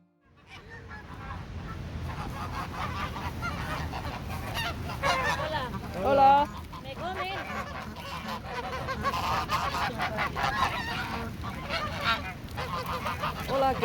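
Geese honking repeatedly on an outdoor walk, a busy overlapping flock calling nonstop at moderate distance, with a louder burst midway and faint human voices in the background.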